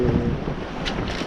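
A sailboat under sail, heading toward Lipari, with a steady broadband rush of wind and water close to the microphone, continuous and fairly loud, with no voices.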